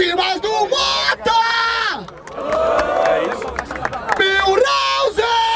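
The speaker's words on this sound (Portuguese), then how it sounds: "Barulho para as rimas do Mota!" An outdoor rap battle crowd in Barueri, São Paulo, yells, whoops and cheers loudly and continuously for the rapper Motta, with sustained shouting voices rising and falling.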